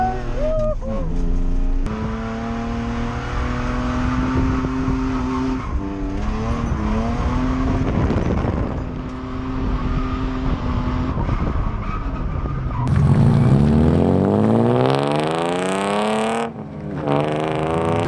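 Drift car at night on a course lit with LED-lit cones, engine revving hard in rising and falling sweeps while the tires squeal and skid, loud and close, ending in a long screeching slide.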